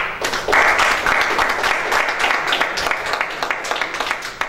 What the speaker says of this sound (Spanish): Démosle un aplauso, por favor